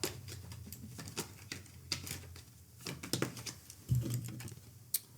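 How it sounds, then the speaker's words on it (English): Tarot cards slipping and being pulled from a deck make a run of soft, quick papery taps and shuffles, close and fairly quiet, with a brief low thump partway through and no talking. "I'll pull a few more cards."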